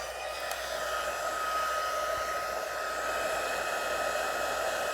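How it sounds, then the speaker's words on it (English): An embossing heat tool runs on its hottest setting, giving a loud, steady, breathy hair-dryer-like whoosh with a faint whine, constant throughout with no talking. "Now I'm going to grab my heat tool, put it at the hottest setting all the way up."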